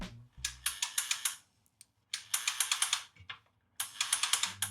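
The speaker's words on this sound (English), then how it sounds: "when we turn the spindle, we should hear a distinct clicking sound as the brush lifts over that one burnt segment" A Milwaukee CS60 circular saw spindle turned by hand with its brushes passing over a burnt commutator segment, giving rapid bursts of sharp, close ratcheting clicks in three runs separated by brief pauses, with no talking.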